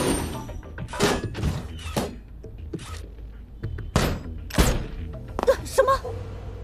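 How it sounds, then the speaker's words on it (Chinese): A cartoon exploding pencil gun fires off a rapid string of sharp bangs, cracks and heavy thuds in uneven bursts, loud and close. "爆炸铅笔枪。"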